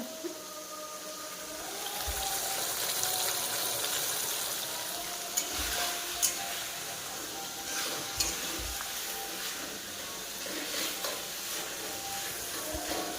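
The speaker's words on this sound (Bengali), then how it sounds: "এই যে মশলা দিয়ে পটলটা পুরো কষানো হয়ে গেছে" Pointed gourd frying with spices in oil gives a continuous loud sizzle and hiss, broken by occasional spatula knocks and scrapes against the pan as it is stirred.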